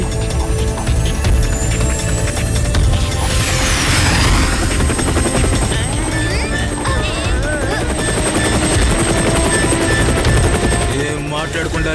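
A cartoon helicopter flies close by with a loud, constant rotor drone, mixed with sweeping sound effects and tones while characters talk over it.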